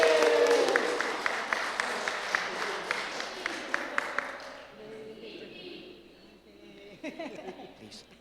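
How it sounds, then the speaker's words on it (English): An audience in a legislative chamber at a resolution presentation applauds, a dense, fairly close wash of clapping for several seconds that fades into quiet, followed by brief talk. "Have a round of applause."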